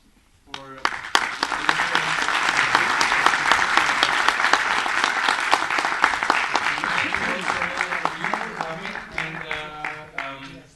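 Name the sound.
audience applause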